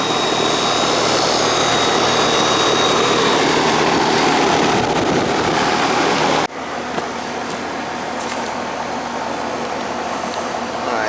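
An air conditioner unit that had not been cooling a house, running and blowing air in a steady broadband rush that drops sharply to a quieter hum partway through, with no talking.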